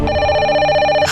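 A telephone rings in a tense family drama scene, a single loud, steady electronic bell tone holding for about a second with no talk over it.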